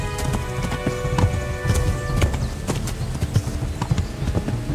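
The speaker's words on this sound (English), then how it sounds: "When riding, you can give your horse its head and it will stick to the path you're on" Horse hooves clip-clop steadily as a rider travels in Kingdom Come: Deliverance, a medieval role-playing game, with a regular rhythmic gait over a low ambient background and faint tonal game sounds.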